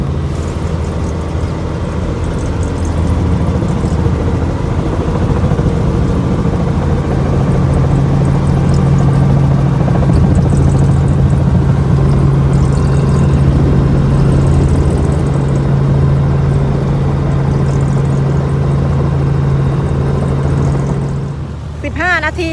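A helicopter's loud, steady rotor and engine drone fills the cabin throughout a sightseeing flight over rural Yorkshire, with a constant low hum that fades slightly at the end.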